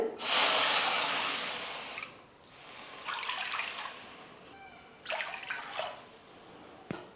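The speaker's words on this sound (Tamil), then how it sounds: "மொத்தமாக 3 கப் அளவுக்கு இப்போ நான் தண்ணி சேர்த்துக்க போகிறேன்." Water pours noisily into a pan for a couple of seconds while making rava kesari, then quieter splashes, light clinks and a sharp knock follow.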